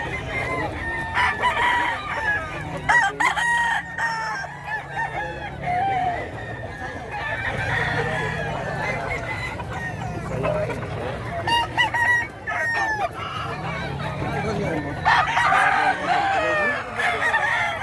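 Fighting roosters at a gamecock and pet market in Bocaue, Bulacan crow repeatedly, several birds overlapping in loud, drawn-out calls with clucking and crowd murmur beneath.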